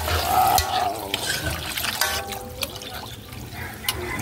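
Water poured into a pot of chicken sampalok soup with plenty of malunggay leaves, a steady liquid splash and trickle over several seconds with light drips, fairly close and with no talking.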